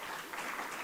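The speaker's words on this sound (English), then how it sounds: "I believe a round of applause is in order." Conference audience applauding, a short burst of dense clapping that holds steady and fairly close throughout.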